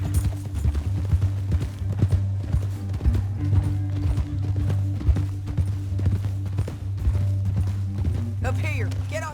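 Steady hoofbeats of a horse clip-clopping along at a quick pace in the video game Red Dead Redemption 2, with a low rumbling backdrop and a brief voice near the end.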